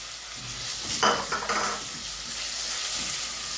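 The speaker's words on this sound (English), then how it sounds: "So now we are adding our beef." Beef added to a pot of frying onions for Kenyan pilau, a sudden burst of hissing sizzle and clattering stirs that settles into a steady, quieter fry.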